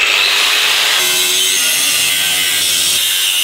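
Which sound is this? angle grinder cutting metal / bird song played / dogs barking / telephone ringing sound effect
angle grinder cutting metal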